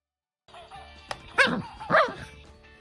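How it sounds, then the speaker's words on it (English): A barking sound from a birthday card gives two short, sharp yaps a fraction of a second apart over a faint, tinny electronic tone. "When the birthday card barks back, you attack."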